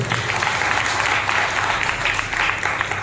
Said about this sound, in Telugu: బిగ్గరగా చప్పట్లు కొట్టండి